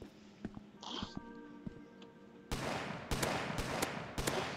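Rapid gunshots from the Roblox game Dusty Trip, beginning as sparse clicks and then bursting into several loud, close bangs in the second half, with a brief tonal game sound early on.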